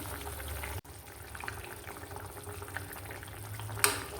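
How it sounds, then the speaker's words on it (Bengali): Radish and curry water for a karfu fish and radish curry simmer in a covered pot, a steady low bubbling with a sharp click early on and a brief clatter near the end. "এখন ঢাকনা লাগিয়ে রান্না করব যাতে মূলাটা সিদ্ধ হয়ে যায়।"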